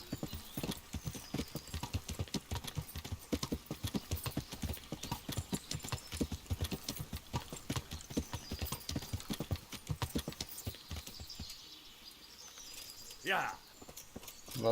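Horse hooves gallop in a video game, a fast, steady run of close, rhythmic hoofbeats that slows and thins toward the end.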